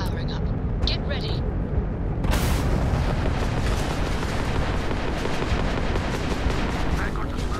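Spaceship weapons fire in Starfield, a dense run of rapid booming blasts that starts after a couple of seconds and continues, loud and rumbling, with a voice speaking over it.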